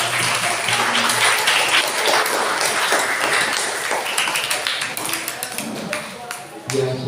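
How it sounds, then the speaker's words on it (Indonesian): An audience at a school student council assembly claps in dense, continuous applause that carries on throughout, with voices talking over it. "Ya, beri tepuk tangan kepada Ketua OSIS"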